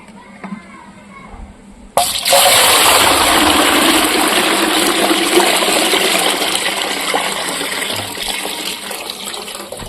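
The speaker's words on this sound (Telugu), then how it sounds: "ఒక బకెట్ తీసుకునే బకెట్లోకి అయితే నీళ్ళు పోస్తాను" After a quiet couple of seconds, water suddenly gushes loudly into a bucket, a close, steady rushing stream that eases off slightly toward the end.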